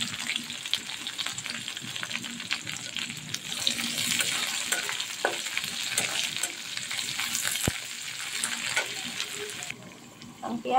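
Onion stalks sizzle in a pan for a chickpea curry, a bright, continuous frying hiss with scattered pops and stirring scrapes, steady for most of the stretch before thinning out near the end; faint talk sits underneath.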